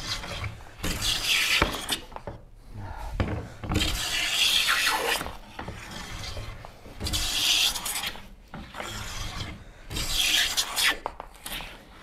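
Wooden boards being hand planed for a Shaker cabinet give repeated rasping strokes, each lasting a second or two with short pauses between, close and steady.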